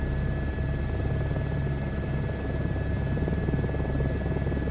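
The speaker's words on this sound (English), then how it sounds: "I'm in a helicopter." Steady, close rotor drone and whine from an H125 helicopter in a flight simulator game, continuous and even throughout with no voices.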